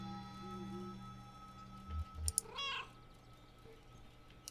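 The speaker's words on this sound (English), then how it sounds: "Cheerful meow." A cat gives a single cheerful meow in the video game Kentucky Route Zero, a short rising-falling call heard clearly over a quiet, humming ambient background.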